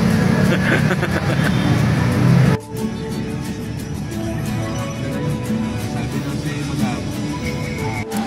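A truck's engine rumbles loudly nearby, then cuts off abruptly partway through, leaving a quieter, lower idling hum with faint traffic-like noise.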